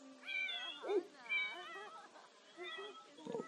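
A hungry stray cat in The Sims gives a string of several drawn-out, plaintive meows, one after another, up close and fairly loud.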